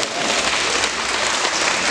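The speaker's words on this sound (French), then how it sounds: "Applaudissez-vous encore une fois." Steady, dense crackling applause fills the whole stretch as a crowd claps for itself at the investiture ceremony of a community chief in Abidjan, Côte d'Ivoire, close and even, with no voice over it.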